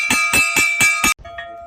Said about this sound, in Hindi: भोजन नाश्ते के लिए घंटी हो जाएगी ये।